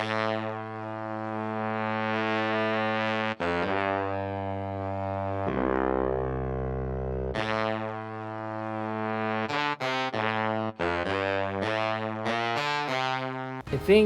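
Studio horns from Logic's stock instrument library play a bright, brassy soul line: long held notes first, then a run of short, punchy stabs toward the end. The horns are loud and alone, with no voices.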